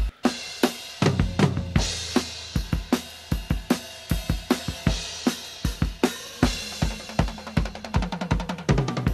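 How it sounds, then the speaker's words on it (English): Snare drum tracked on a Tascam 388 tape machine, struck in a steady run of sharp, poppy cracks with kick hits underneath, close and fairly loud, the hits quickening toward the end. "I feel like I'm getting there on the snare sound with that really good pop to it."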